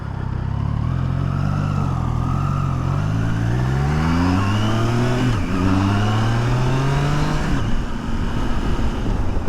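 Triumph Tiger Sport 660 with an inline triple engine revs loudly and close, its pitch sweeping up and down through several rises over a steady rumble, with no talk.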